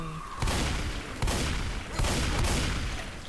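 Heavy gunfire in Left 4 Dead 2: three or four loud, booming shots spaced about a second apart, close and dominant, with no talk over them.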